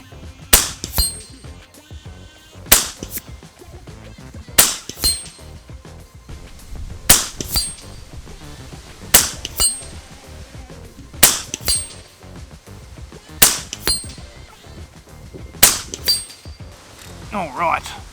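FX Crown air rifle firing at long-range plinking targets: about eight sharp, loud cracks spaced roughly every two to three seconds, each with a brief metallic ring, with faint background noise between shots.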